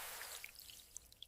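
Faint, scattered water drips fall one by one over a soft steady hiss of flowing water in a cavern, quiet and spacious.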